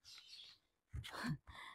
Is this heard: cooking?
no